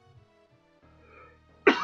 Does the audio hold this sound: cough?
yes